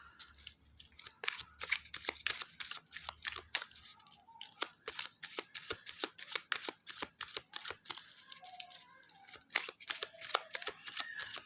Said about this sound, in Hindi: देखते हैं आपके लिए इसके लिए क्लैरिफिकेशन कार्ड क्या निकलता है